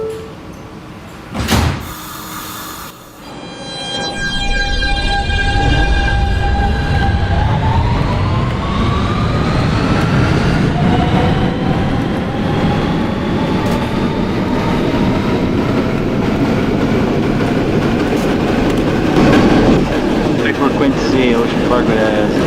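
A NYC Subway R160B Siemens train on the N line in the OpenBVE simulator pulls away, a loud motor whine rising in pitch through several harmonic bands over a steady rumble after a brief chime.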